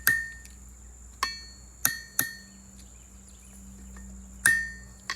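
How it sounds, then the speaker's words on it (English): Pins being hammered flat on a handmade knife handle, several sharp ringing metal strikes at uneven intervals against a quiet background with a faint steady hum. "And then I'll beat the pins down so that way they're even on both sides."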